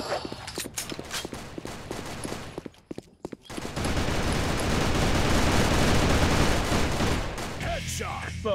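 Rapid gunfire rattles in a first-person shooter match on a warehouse map, with dense bursts of shots giving way to a brief lull and then a sustained, loud roar of firing and game noise.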